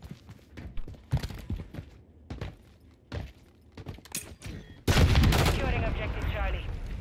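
Gunfire rings out in Call of Duty: Modern Warfare III during an objective-control match, first as scattered sharp single shots and then as a sustained loud burst of automatic fire, with brief voices in between.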